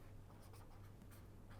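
Writing on a board while working through a limit state design equation, a quiet scratchy tapping in short bursts over a low steady hum, with no talking.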